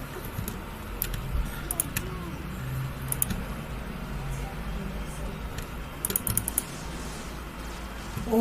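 Clicky keystrokes from a faulty computer keyboard, typed in short bursts over a steady low hum, with a brief voice now and then.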